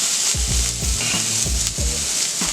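Onions caramelize with a little sugar in a hot pan, giving a steady, close sizzle and hiss with soft stirring movements throughout.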